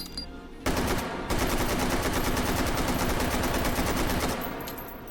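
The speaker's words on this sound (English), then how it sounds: "They made an AK that fires flippin' NATO rounds" Sustained automatic fire from an AK-pattern rifle chambered for NATO rounds, a loud continuous rattle of rapid shots lasting several seconds before tapering off, with no talking.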